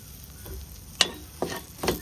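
Garlic for pickle, with chilli powder and turmeric, stirred in a hot oiled pan, giving a soft sizzle under a few sharp spoon scrapes, close and brief.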